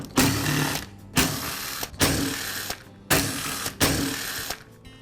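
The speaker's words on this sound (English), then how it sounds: "Now I can remove the starter assembly." Pulling the starter assembly off a Ryobi string trimmer during a starter rope repair: four loud, close bursts of mechanical whirring and ratcheting, each about a second long, separated by short pauses.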